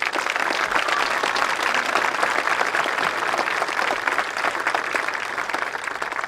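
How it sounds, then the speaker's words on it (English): Steady, dense applause from a large audience at a 2022 commencement ceremony rolls on evenly for several seconds at moderate volume, with no voices standing out. "Can we give them all a big round of applause, please?"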